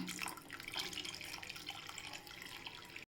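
Water runs steadily into a cooking pot for about three seconds, a close, splashy pouring sound that stops abruptly.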